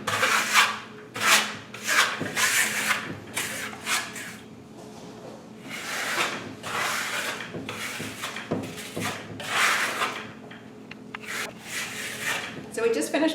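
A trowel works lime plaster (Firmolux Italian lime plaster) across a wall in repeated rasping, scraping strokes at close range, with a steady hum running beneath.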